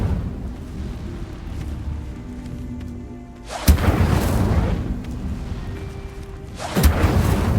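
Two loud fiery bursts from the Incendio spell in Hogwarts Legacy, each a sudden roaring whoosh that sustains and trails off, spaced about three seconds apart over a low ambient game backdrop.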